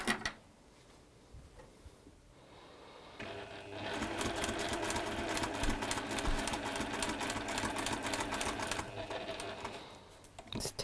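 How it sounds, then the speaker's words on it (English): Sewing machine stitching fabric around a traced template line, a rapid steady mechanical whirr that runs for several seconds after quieter handling noises and faint talk, then slows and stops. "So you're sewing around the whole thing."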